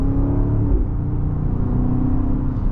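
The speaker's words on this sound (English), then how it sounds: "Let's do a little bit of an accel pull here." 2024 BMW X5 M60i accelerating hard in sport mode, a deep engine rumble rising steadily in pitch as it pulls, heard from inside the cabin with no talking.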